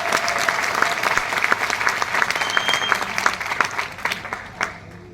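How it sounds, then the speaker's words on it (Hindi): An audience at a motivational seminar breaks into brisk, loud applause, with sharp individual claps standing out in a dense crowd patter that thins toward the end. "और जोरदार तालियां अपने लिए बजा लीजिए।"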